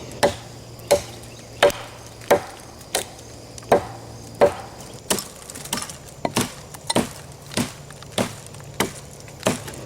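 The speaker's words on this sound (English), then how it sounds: "Now this is great for chopping." A Frank Bowie Defender knife strikes a wooden surface in a steady series of sharp chops, about one or two per second, close and distinct with no talking.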